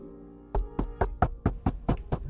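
Eight firm knocks on a door in a steady, fairly quick rhythm, close and solid, with nobody talking.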